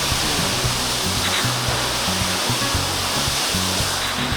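Lauke Jharana, a waterfall near Kathmandu, sends up a loud continuous broadband roar of splashing water, with a low rhythmic throbbing underneath and no voices.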